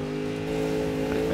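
Base Ford Mustang in Need for Speed, its engine holding a steady, droning rev with a strong low harmonic tone, loud and continuous throughout with no talking over it.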